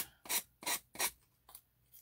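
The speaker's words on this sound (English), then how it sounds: "So, you're doing this and sanding. You want to sand away from yourself." Rhythmic rasping strokes of sandpaper rubbing along a paper card's edge, four firm passes then a lighter one, close and quiet with no talking.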